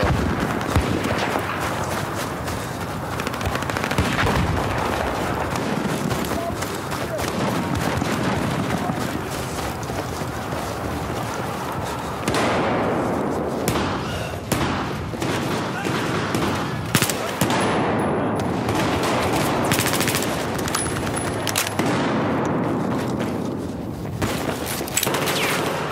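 Continuous battlefield gunfire in the video game Battlefield 4, with dense rifle and machine-gun bursts and explosions layered without pause, loud and steady throughout, with faint voices beneath.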